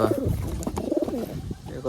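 Wild pigeon coos sound close by in short repeated bursts, mixed with rustling and handling noises.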